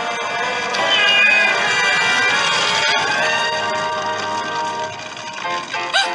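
A cat meows in a long, wailing cry over a dense, ringing background, holding fairly loud for several seconds before fading out.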